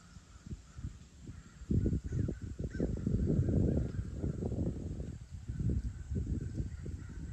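Crows caw repeatedly on a fall mountain outing in North Carolina, a dense run of harsh calls, several birds overlapping and fairly close, rising and falling in bursts with no talking.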